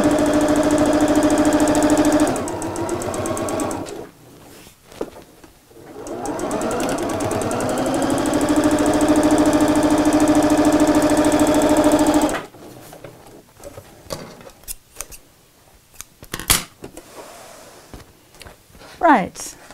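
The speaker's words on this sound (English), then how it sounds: "I'm going to sew straight down the centre" A domestic sewing machine set to a long stitch runs in two sustained bursts, stitching straight down the centre of a fabric pocket, followed by quieter handling noises and light clicks.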